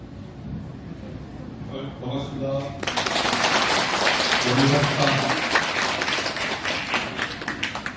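Audience applause builds from scattered claps into a steady, fairly loud round of clapping that holds for several seconds at a Buddhist gathering, with voices talking before and during it.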